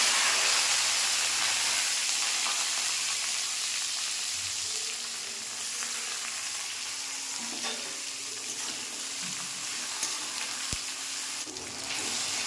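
Bay leaf, dried chilli and whole cumin spitting in hot oil make a loud, steady hiss with scattered crackles, softening slightly midway, and a single metallic clank near the end.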